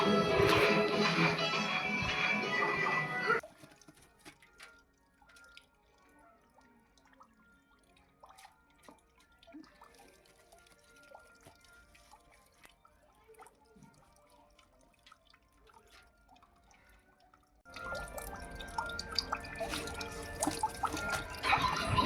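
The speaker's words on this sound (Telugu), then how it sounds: "ఇలా జల్లెడి గిన్నె లాంటిది ఉంటే దానిలో వేసుకుంటే ఆ పైనున్న వాటర్ అంతా దిగిపోతాయి" Water drains and trickles steadily through a strainer, loud at the start and end with a quieter stretch of faint drips in between.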